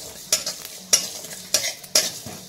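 Garlic and nigella seeds frying gently in oil, a soft sizzle punctuated by four evenly spaced sharp stirring clinks, close and alone.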